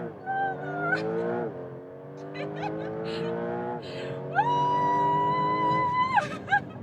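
A 2026 Porsche 911 Turbo S driven fast, its engine note rising through the gears in long sweeping pitch climbs, with sharp shift breaks between them, heard close and loud with no talk over it.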